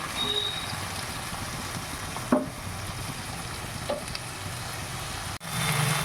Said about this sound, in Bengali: সবজি ভাজা চলছে।